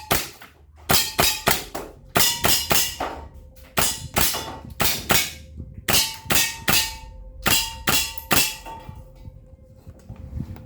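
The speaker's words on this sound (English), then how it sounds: "I will be shooting it in semi-automatic, so this mode right here, and let us begin with the test fire" A WE 888 HK416 airsoft rifle fires in semi-automatic, giving a long series of sharp, loud clacking shots, mostly in quick pairs and short bursts with brief pauses, alone without talk.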